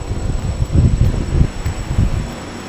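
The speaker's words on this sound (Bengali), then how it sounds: "আবার অনেক বাতাস" Strong wind gusting on a cold, overcast, drizzly day in Serbia, a steady low rumble that swells and buffets the microphone in repeated surges without pause.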